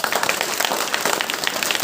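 Audience applause at a motivational talk, a dense continuous patter of many hands clapping at steady volume for the whole span, with no voices over it.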